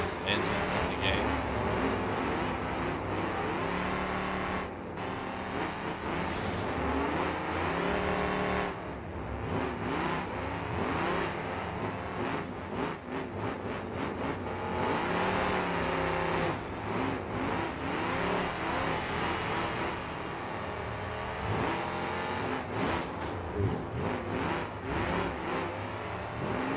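A car engine, a Chrysler 318 in the BeamNG video game, revs and roars continuously, rising and falling in pitch as it accelerates and shifts, loud and up close throughout.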